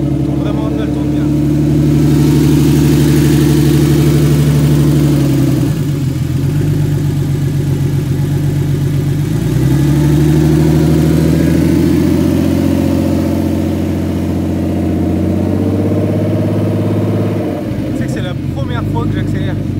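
A turbocharged BMW E36 engine idles steadily on its first start, with no engine management fitted, giving a continuous low, rumbling hum at close range for about twenty seconds, with voices talking over it.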